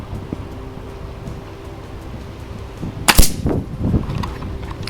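A single sharp crack from an FX Wildcat MK2 air rifle fired at a 20 m target, close and loud midway through, standing out against steady outdoor wind noise.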